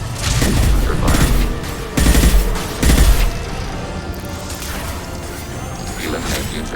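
Gunfire from the Mass Effect 2 video game crackles in heavy bursts, with three loud booming volleys in the first half and then a lighter, steadier stream of shots and mechanical noise.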